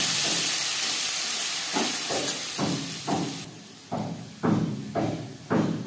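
Onion-tomato paste hits hot oil with crushed garam masala in a pan for cabbage paneer, giving a steady hiss with a run of louder sizzling bursts in roughly regular strokes toward the end.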